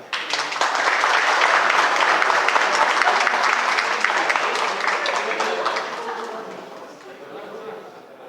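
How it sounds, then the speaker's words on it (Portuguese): An audience at a public hearing on climate change and flooding breaks into sustained applause, a dense, loud wash of clapping that slowly fades toward the end. "Quero então pedir uma salva de palmas"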